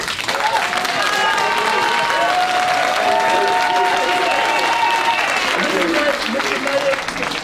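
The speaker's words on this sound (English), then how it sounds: "If you want to vote for the name, show by a round of applause" A crowd at a city council meeting breaks into loud, sustained applause with some cheering, dense clapping filling the room at an even level throughout, with voices mixed in.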